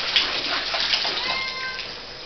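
A cat meows a few times over a steady rushing background like running water, fairly close.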